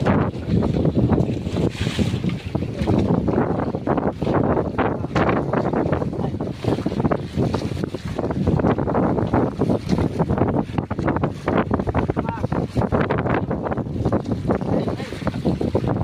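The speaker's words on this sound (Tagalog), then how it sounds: "Kita nyo naman yung hangin" Steady, loud wind roars across the microphone for the whole stretch, with boat and water noise underneath and a voice talking through it.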